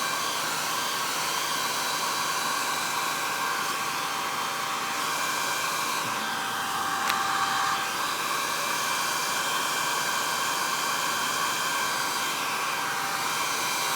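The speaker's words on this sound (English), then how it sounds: "This isn't a heat gun, this is a" A hair dryer drying a pen-and-wash painting blows continuously, a steady loud whooshing roar with a motor whine, unchanging throughout.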